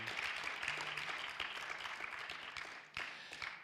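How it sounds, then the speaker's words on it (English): An audience applauds the jury at a World Consumer Rights Day event in Katowice, a steady wash of clapping that dips briefly near the end and then swells again. "thanks, big applause for the jury."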